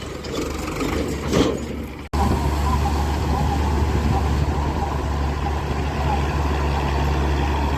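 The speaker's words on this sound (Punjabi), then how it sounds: "ਟਰੈਕਟਰ ਵੀ ਆ ਗਿਆ ਪਿੱਛੇ" Heavy engine of a farm machine running steadily close by in Madhya Pradesh fields, a low constant rumble after a brief cut near two seconds, with a tractor engine coming up from behind under the machine noise.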